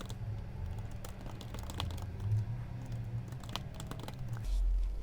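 Steady keyboard typing as an address is entered for a business card layout, a fairly continuous run of close key clicks over a low background hum that shifts near the end.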